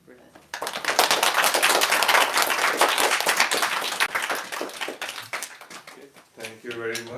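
A crowd applauds at a Swami Vivekananda birthday celebration: a loud, dense burst of clapping from many hands that swells quickly, holds for several seconds, then thins out as a voice begins speaking.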